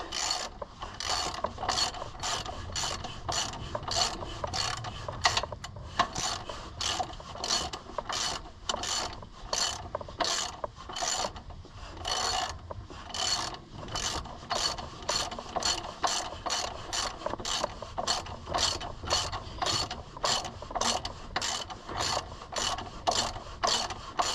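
Ratchet tightening a 15mm bolt on a 2015 Chevrolet Suburban alternator, close, crisp clicking in rapid rhythmic bursts of back-and-forth strokes that continue steadily throughout.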